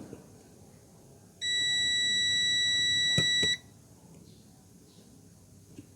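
A multimeter probed across a capacitor in a faulty LG TV power adapter gives one steady continuity beep lasting about two seconds before cutting off, set against quiet room noise.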